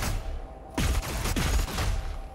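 Gunfire rings out in the video game Doom Eternal, a few rapid loud shots closely spaced over a steady game background.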